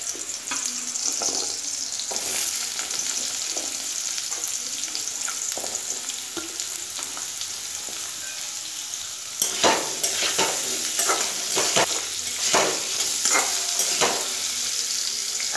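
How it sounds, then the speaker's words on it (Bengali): Potatoes sizzle in hot oil with dried red chillies and spices for a cauliflower and potato curry, with steady frying hiss and repeated scraping stir strokes, close and loud, growing busier toward the end; no talking. "আলুটা দিয়ে নাড়াচাড়া করে দিয়েছি"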